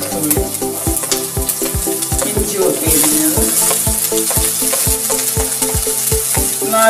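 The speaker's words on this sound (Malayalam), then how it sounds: "ഇതിലേക്ക് നമ്മൾ കുറച്ച് കടുക്, ആവശ്യത്തിന് കടുക്, കുറച്ച് ഉലുവ." Mustard seeds and fenugreek crackle and sizzle in hot oil in a pan, a steady loud frying hiss with regular sharp popping seeds throughout, close and without talk.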